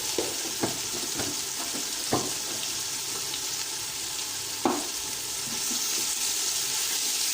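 Chicken biryani masala with chilli powder sizzling in a pan while being stirred, a steady frying hiss broken by a few sharp scrapes and taps of the spoon, close and even.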